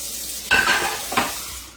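A brief splash of water poured into a blender in two short bursts, close by, with no talking.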